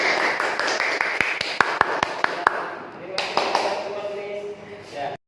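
A classroom gives a few scattered claps for a group presentation during a teaching practice lesson, sparse sharp hand strikes over chatter and a talking voice, fading as speech continues.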